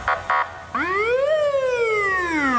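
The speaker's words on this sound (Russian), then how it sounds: "Скорая помощь с трудом преодолевает улицу Дагомысскую." An ambulance siren wails in city street traffic in Sochi, first with two short blasts, then a long loud rising and falling tone close by over a steady traffic rumble.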